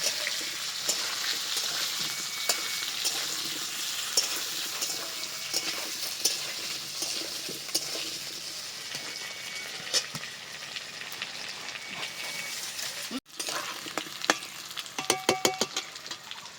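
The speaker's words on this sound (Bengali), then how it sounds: "তোমরা দেখতেই পেলে কড়াইতে আমি আলুগুলো ভাজতে দিলাম।" Potatoes frying in a wok, a continuous sizzle and hiss with scattered pops, followed near the end by a short gap and a quick burst of clattering stirring; no voices.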